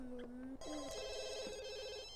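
A telephone rings in The Sims 2: University, a bright electronic trill with repeated chirping tones, clear and up front, shifting pitch midway.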